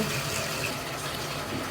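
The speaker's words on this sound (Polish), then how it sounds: "Przygotowujemy ciepłą kąpiel, dolejemy szamponu, żeby były bąbelki." Warm bath water with shampoo poured in runs steadily into a tub while a dog is being bathed, a continuous close gushing fill without pause.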